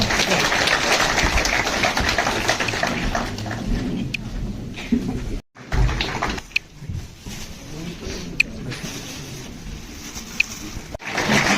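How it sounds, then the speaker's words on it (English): An audience claps for a guest invited to a lamp lighting ceremony at an extension lecture event at GDC Surankote, a dense burst of applause that fades after a few seconds into quieter room noise with scattered clicks. "Round of applause for him."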